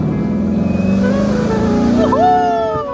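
A Ford Mustang GT driving on a road gives a loud, steady engine drone that rises in pitch toward the end as it accelerates, with no talk.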